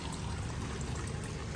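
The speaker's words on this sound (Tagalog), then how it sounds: "nag-refill tayo ng tubig" Water pours steadily into a crab farm box being refilled, a faint continuous splashing stream heard alone.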